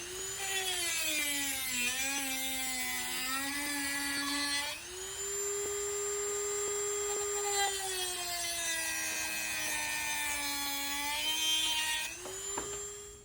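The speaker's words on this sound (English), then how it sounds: "Now I'm cutting off lengths of the mosaic pin with a Dremel." A Dremel rotary tool cuts lengths of mosaic pin for a Damascus knife build, a steady high-pitched whine that dips and rises under load, pausing briefly near the middle and again near the end, loud and close.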